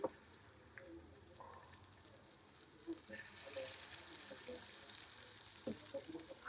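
Fish frying in oil on a tawa for a Malenadu Sakleshpur-style fish fry, a soft steady sizzle with occasional crackles and pops, fairly quiet and continuous.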